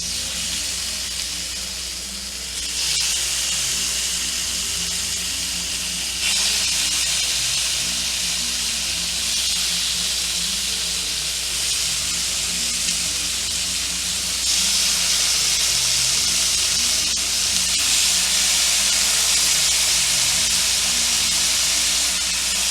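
Chicken satay skewers sizzle steadily in a hot pan, a loud, continuous hissing crackle that swells slightly as more pieces are laid in, with no talking.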